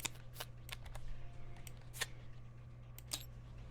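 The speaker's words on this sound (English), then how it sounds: "Shuffle that up." Marvel Champions playing cards being shuffled into a deck, a series of short, crisp riffling bursts close by over a low steady hum, no talking.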